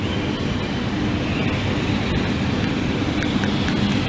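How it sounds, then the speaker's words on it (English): A train rumbles past close by, loud and steady throughout with continuous broadband roar and rail noise, no voices over it. "Got a train coming when I'm trying to talk."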